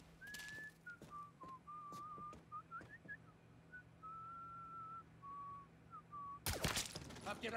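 A character whistles a wandering tune in the video game Mafia 3, a thin clear melody of short and held notes over quiet game ambience, followed by a burst of louder noise near the end.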